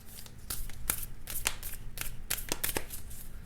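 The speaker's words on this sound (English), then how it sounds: "These cards are still so new and so it's very difficult to shuffle." A brand-new deck of cards being shuffled by hand, the stiff cards sticking together: a run of crisp, irregular riffling snaps and flicks, close and fairly clear, with no talking.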